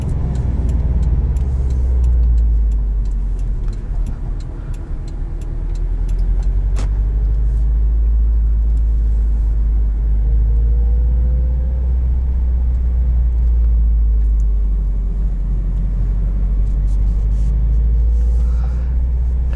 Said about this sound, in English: About 1700 RPM, it's that typical boxer rumble.